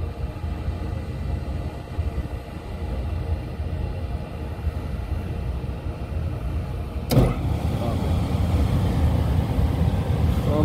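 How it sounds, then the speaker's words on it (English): A Daikin rooftop HVAC unit that keeps blowing fuses hums with a steady broadband rumble, then its motor kicks in with a brief thump and keeps running, heard up close with no voices. "Motor will start soon."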